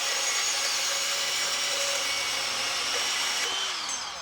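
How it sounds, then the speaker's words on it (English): A Hercules HCB 790B 20V brushless cordless compact bandsaw cuts through conduit with a steady, loud, high-pitched whine that holds for the full stretch and eases slightly near the end. "20 volt Hercules cordless compact bandsaw"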